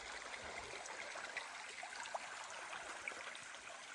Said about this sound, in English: Very nice stream, isn't it?